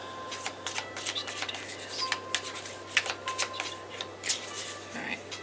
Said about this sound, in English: Alright, 3 more shuffles.